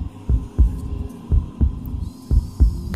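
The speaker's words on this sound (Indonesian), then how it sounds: "Jantung Risa deg-degan banget" A heartbeat sound effect from a horror story thuds in steady double beats, low and heavy under a constant hum, with no voices.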